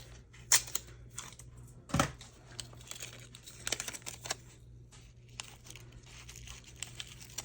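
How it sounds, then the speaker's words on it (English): Plastic wrap crinkles and crackles in quiet bursts, with a few sharper tearing snaps, close by over a low steady hum. "I'm gonna unwrap and rewrap over here."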